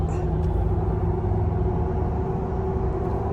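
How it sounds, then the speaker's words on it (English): Steady engine rumble and busy road traffic from inside a lifted RAM 1500 pickup driving at night in Florida, a continuous low drone with no talking. "The traffic's kind of busy right now"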